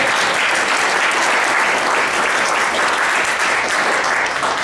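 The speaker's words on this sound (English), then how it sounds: "he's the one here, so he gets the applause." Steady applause from a seminar audience, a dense even wash of clapping filling the room, loud and continuous with no talk over it.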